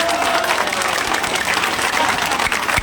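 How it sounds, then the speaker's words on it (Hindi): Crowd applause at a Congress party political rally in Shirauli, Bareilly, as a candidate is welcomed: dense, steady clapping from a large outdoor gathering, loud and continuous throughout. "जोरदार तालियों द्वारा स्वागत कीजिए अपने प्रत्याशी का"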